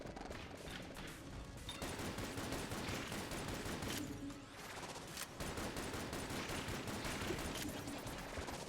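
Dense, continuous gunfire from chain shots in the Enter the Gungeon video game, a loud, sustained barrage of rapid shots with brief dips, layered with game effects.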